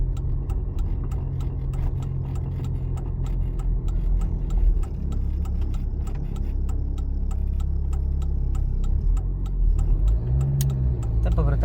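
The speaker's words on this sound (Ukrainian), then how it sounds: "Вмикаємо лівий покажчик повороту" A car's turn signal ticks steadily in an even rhythm during a left turn on a driving-exam route, heard over the low rumble of the engine and road for the whole stretch.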